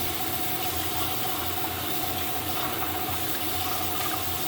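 KitchenAid stand mixer blending Duncan Hines pineapple upside-down cake batter, a constant close motor whir with a steady low hum and no pauses or speech.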